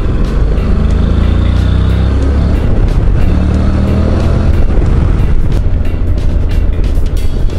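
A Honda NC 750X DCT motorcycle on a road test ride sounds a steady, loud engine drone with strong wind rush throughout, and the note rises and falls slightly as the bike moves along.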